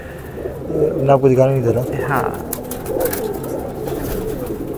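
Highflyer breeder pigeons, an original pearl-eyed type, coo in a loft, a rolling throaty call rising clearly around the first two seconds, then softer cooing continues under a man's speech.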